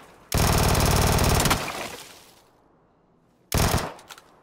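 Automatic gunfire from a battle royale shooter rattles in a loud sustained burst lasting over a second. It then trails off as the echo decays, and a second short, sharp burst comes later, with no talk over it.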